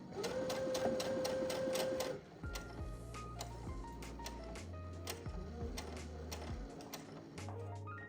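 A sewing machine stitches through a puff quilt, a fast rhythmic mechanical whirr for about two seconds, then stops. Slower, scattered clicks and stitch bursts follow as the fabric is shifted, all close and fairly quiet.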